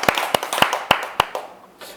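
A few people clapping at a golf gathering, sparse sharp claps in a loose rhythm, about five distinct hits close by, fading out within two seconds.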